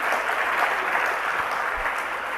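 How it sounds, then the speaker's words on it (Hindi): An audience at a religious discourse applauds with a steady, dense wash of clapping that holds evenly throughout, fairly loud and without voices. "तो फिर अपने आप ही ताली बजाया करो"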